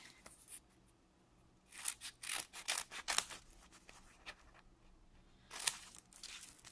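Scissors snip through sticky-backed paper lining on a handmade Easter card, a few close, crisp bursts of cutting and crinkling separated by quiet pauses.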